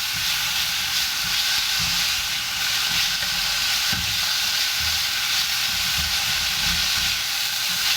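Salt and pepper crispy shrimp seasonings stir-fried in a wok with a splash of rice wine, a loud steady hissing sizzle with occasional scraping knocks of the spatula, no voices.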